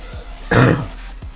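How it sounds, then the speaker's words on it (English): A single short throat-clearing cough, close and alone, with a faint small click before and after. "Sorry, still coughing."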